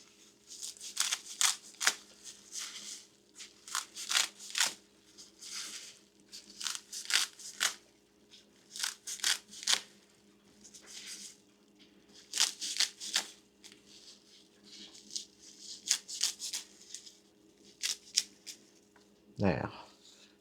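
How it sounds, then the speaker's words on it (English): Scissors snip through fresh leaves being cut up for a homemade plant fertilizer blend, giving a steady run of short, crisp, close cutting and crinkling sounds, with a faint hum underneath and a brief thump near the end. "Chop them up some here or cut them using a pair of scissors."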